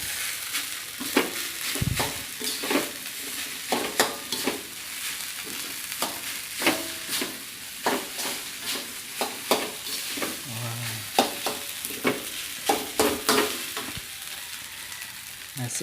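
Nasi goreng terasi, Acehnese shrimp-paste fried rice, frying and smoking in a pan, with constant loud sizzling and repeated scraping, clanking stirs of a spatula against metal in an irregular rhythm, close up and without talk.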